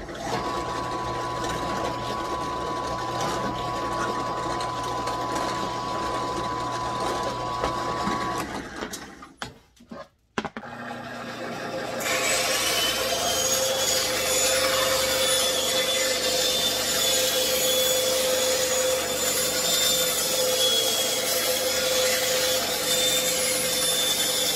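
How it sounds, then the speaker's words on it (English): Workshop drill press boring into wood while making a paddle, a steady mechanical whir and grinding hum that cuts off briefly midway, then resumes brighter and louder with a continuous high whine, no talk. "We're gonna move to the drill press."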